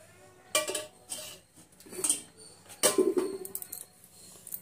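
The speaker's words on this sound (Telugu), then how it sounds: "స్టవ్ వేయించుకి కళాయి పెట్టుకొని నూనె పోసుకోవాలండి." A metal kadai is set down on a stove and oil is poured in, giving several clanks and scraping metallic knocks close by, separated by short quiet gaps.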